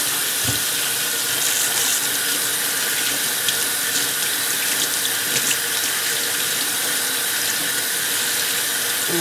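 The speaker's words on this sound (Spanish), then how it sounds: "Como siempre, lavando bien las verduras." Steady, loud tap water runs into a kitchen sink while a tomato is washed, a continuous hiss without pause and no talking.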